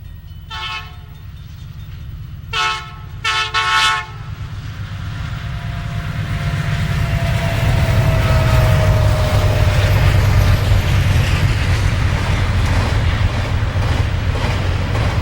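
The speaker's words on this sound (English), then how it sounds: "And the westbound mail flies through just a bit later." A Santa Fe westbound mail train passing, opening with three loud multi-tone horn blasts, then a swelling, sustained rumble of wheels and cars rolling by close.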